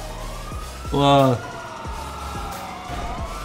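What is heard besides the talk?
police car sirens in video game GTA5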